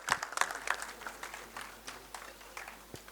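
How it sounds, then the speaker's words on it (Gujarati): An audience at a community get-together gives a standing ovation, producing faint, scattered clapping with a few sharper claps at the start that settle into lighter, uneven applause. "આપણે સૌ ઊભા થઈને તાળીઓ વગાડશું"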